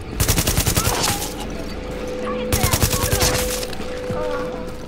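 Rapid bursts of automatic gunfire from Tom Clancy's The Division, loud and close, firing in two volleys with a lull between, over a steady low hum of game ambience.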